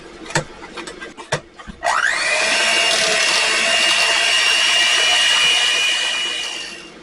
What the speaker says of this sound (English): Mash the potatoes up a little bit.